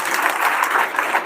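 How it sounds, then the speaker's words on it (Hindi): Sustained audience applause fills the hall at an Adivasi rights conference in Junnar, Pune, a dense, even wash of clapping from a crowd without a break. "जोरदार तालियां बजाओ."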